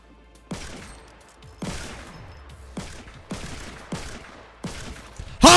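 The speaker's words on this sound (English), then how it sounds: "How are these shots not killing him?" Sniper rifle shots in the Fortnite video game, five loud sharp cracks spaced about a second apart, each with a fading tail, ending with a harsh burst of noise.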